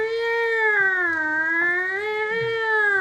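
A drawn-out cat meow used as a sound effect in a tabletop fantasy RPG session, one long wavering tonal cry that bends up and down and carries steadily for about three seconds with no talk over it.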